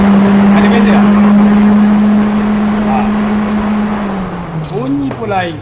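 A high-speed radiator cooling fan on a car runs as a loud, steady electric drone that fades slightly near the end, with voices briefly heard toward the close.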